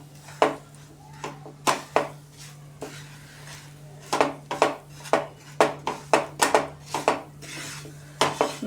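Melting jaggery stirred in a nonstick pan, the spoon or spatula knocking and scraping against the pan in a quick irregular rhythm, close and fairly loud, with a steady low hum underneath and no speech.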